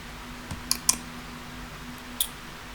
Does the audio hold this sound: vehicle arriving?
no